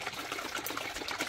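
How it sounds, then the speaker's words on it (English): French vinaigrette dressing poured into a jar makes a steady, close trickling splash that runs without a break for just over a second, with no voices. "So I'm going to pour the dressing into a jar now."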